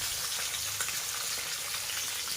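Tilapia fish frying in hot mustard oil in a wok, giving a steady, soft, dense sizzle with crackles that carries on evenly throughout, with no talking.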